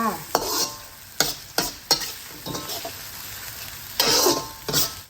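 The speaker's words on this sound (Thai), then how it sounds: "เราก็จะเจียว หอมจนเหลืองนะคะเจียวไปเรื่อยๆนะคะ" Shallots fry in hot oil in a pan until golden, a steady sizzle broken by repeated scraping stirs of a utensil against the pan, loud and close.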